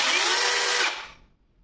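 Procraft PKA42Li cordless battery chainsaw runs with a steady high-pitched whir close by, then winds down and falls silent after about a second.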